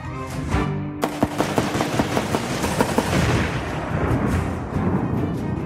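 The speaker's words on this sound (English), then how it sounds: "firing an automatic weapon at a can of gasoline" An automatic weapon fires at a can of gasoline in a rapid burst of sharp, close shots that gives way to a dense, sustained roar.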